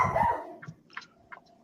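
A dog barks at a cat outside, giving a few short, muffled barks spaced irregularly over under two seconds, quiet and somewhat distant, with no talking.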